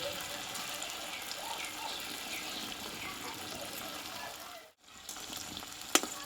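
Potato and flour snacks fry in a generous layer of hot oil, a steady dense crackling sizzle that runs throughout, breaking off briefly near the end before resuming with a small clink.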